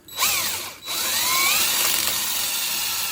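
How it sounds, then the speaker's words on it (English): Power drill boring a pilot hole into a motorcycle screw on a Honda CL350/CB350 restoration, a loud close whine that briefly stops and restarts, then runs steadily with the pitch shifting as the bit bites metal. "drill out this other one so you have a nice matching bolt. Pilot hole."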